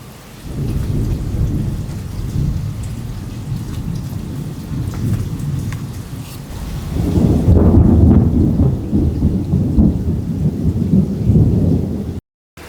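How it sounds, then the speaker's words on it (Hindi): Torrential rain from Tropical Storm Bertha pours down in a steady, dense hiss. Deep thunder rolls and rumbles beneath it and swells louder partway through. "बहुत तेज़ मूसलाधार बारिश शुरू हो चुकी है।"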